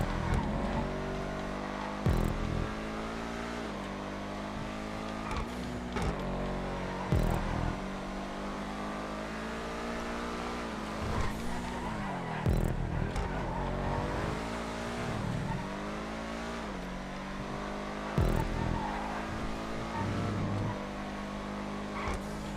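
A Schlagen race car in GTA 5 drives hard with a continuous loud engine drone, rising and falling revs through gear changes, and occasional tire squeals and skids over about twenty seconds.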